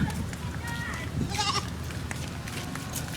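A goat bleats in a short wavering cry midway through, over steady low rumbling background noise and faint outdoor commotion.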